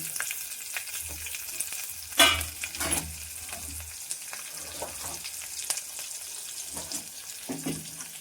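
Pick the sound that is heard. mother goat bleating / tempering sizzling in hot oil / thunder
tempering sizzling in hot oil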